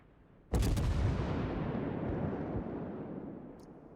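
A French tier 8 cruiser, the Charles Martel, fires a salvo in World of Warships: one sharp, heavy boom with a quick rattle, then a long rumbling decay that fades over several seconds.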